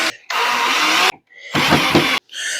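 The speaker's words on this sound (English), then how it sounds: "Let's throw some pocket screws in there" Power drill driving pocket screws into a wooden cornhole board, two loud whirring bursts of about a second each separated by short pauses, with a third starting at the end, close and alone.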